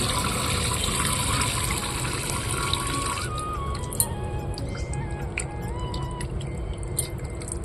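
Lentils are washed under running water from a tap, a loud, continuous splashing and gushing stream with occasional clinks and sloshes as the grains are rinsed close by.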